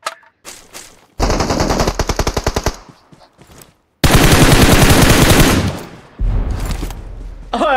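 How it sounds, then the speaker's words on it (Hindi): Automatic gunfire in the mobile battle royale game PUBG Mobile: a rapid burst of evenly spaced shots, a pause, then a longer dense volley and another burst, loud and close with no talking. "तो मनु गोलियां लग रही है जी।"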